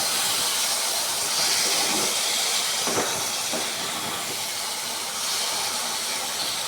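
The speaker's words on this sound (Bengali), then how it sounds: "আমি একটু জল ঢেলে দিচ্ছি" Water hits a hot spiced masala mixture in a cooking pan, setting off a loud, steady steaming hiss and sizzle that runs unbroken throughout, with no talking.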